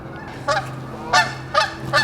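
Several loud honks from geese, repeated at short intervals, fairly close, outside an abandoned mid-century modern mansion in Toronto, with a low steady hum beneath.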